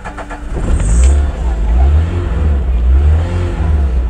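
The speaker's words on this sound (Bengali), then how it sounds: "লাগানোর পরে গাড়িটা স্টার্ট করতে।" A manual-transmission car engine cranks and catches after a blown fuse is refitted, then settles into a loud, close, steady idle rumble.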